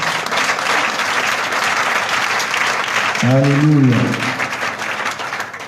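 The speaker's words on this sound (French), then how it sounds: "Est-ce que vous pouvez vous acclamer" A church congregation applauds loudly and continuously, the dense clapping filling the whole stretch while one voice briefly calls out over it.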